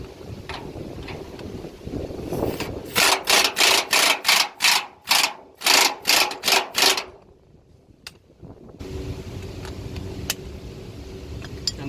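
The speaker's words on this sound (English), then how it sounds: "now we're gonna tighten the nuts from the inside" A wrench ratchets in a quick burst of about a dozen sharp clicks, tightening nuts on a car hauler trailer hanger outdoors, with wind noise around it and a short pause before the background resumes.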